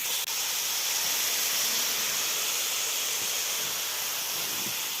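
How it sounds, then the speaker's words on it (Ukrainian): Chopped onions frying in a hot pan for Ukrainian army-style borscht, giving a steady, loud sizzling hiss throughout with no talk. "І додаємо туди цибульки. Бо цибулі має бути багато. Все це перемішуємо і трохи прожаримо."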